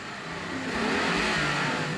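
An Alfa Romeo Alfasud with a 68-horsepower 1.3-liter boxer engine drives along, its engine a steady, close, moderately loud drone that swells slightly as it pulls.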